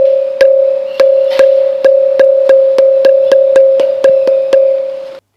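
A stone musical pillar in a temple, struck about fourteen times in a quick, fairly even rhythm to resemble a school bell, each tap sharp and ringing into a bright, continuous metallic-sounding tone, close and loud.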